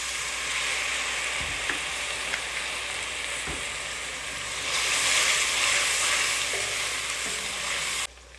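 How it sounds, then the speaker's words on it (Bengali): Ginger, garlic and onion paste frying in a pan, with a small splash of water added; the steady sizzle swells louder partway through as the water hits the hot paste, with a few stirring knocks and no talk. "আদা রসুন আর পেঁয়াজ ভাজা হয়ে গেছে এখন আমি সামান্য একটু পানি অ্যাড করে দিচ্ছি"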